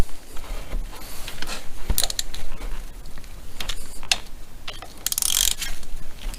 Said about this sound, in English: let's just quick use a ratchet and tighten them on nice and snug